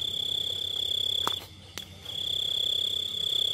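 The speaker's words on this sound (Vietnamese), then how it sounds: "Dế kêu ta. Này có dế." Crickets chirp steadily in a rice field, a continuous high shrill trill filling the whole stretch, with a couple of brief sharp knocks or rustles close by partway through.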